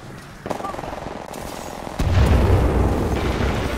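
Gunfire in the video game Attack on Titan, a burst of shots early on followed by a heavier, sustained rattle and boom of firing that grows louder and continues to the end.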